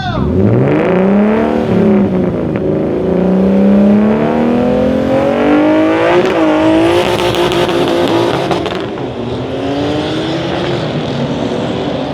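Drag race car launching and accelerating hard down the strip at Bandimere, the engine howling as it climbs through the gears, loud and sustained, with tire noise as it runs away.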